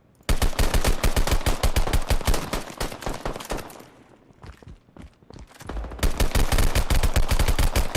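Hip-fired automatic gunfire in the first-person shooter Mightnight Society: long, loud, rapid bursts close up, a brief lull with scattered clatter and single shots, then another sustained volley, with no speech.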